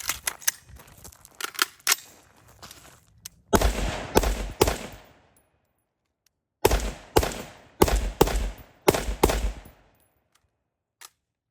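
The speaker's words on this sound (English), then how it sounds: "I'm gonna shoot from here real quick." Sharp gunshots from an LMT 11.5 rifle ring out in loud, close clusters of two to four rounds separated by silent pauses, with a faint lone shot at the very end.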